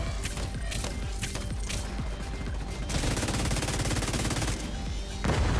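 Dense, continuous gunfire from automated turrets in The Division 2, rapid overlapping shots layered with clattering mechanical noise, loud and sustained throughout with no talk.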